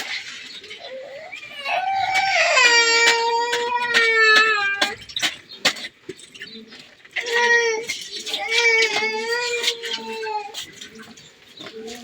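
A baby cries nearby in loud, wailing bursts, pausing briefly before starting again with a second long run of sobbing cries, while a home cook prepares onions, chili and beans in the kitchen.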